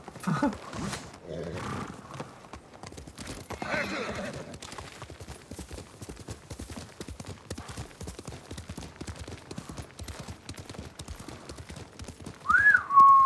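Horse hooves in a video game clip-clop at an even trot throughout. A voice speaks briefly near the start, and a short whistle or whinny-like call sounds near the end.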